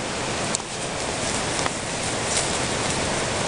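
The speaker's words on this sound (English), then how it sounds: "The sound of the stream, and it's snowing, but it's all right." A stream flows through snowy winter woods, a steady, even rush of water at moderate distance, continuous and fairly soft, with no voices.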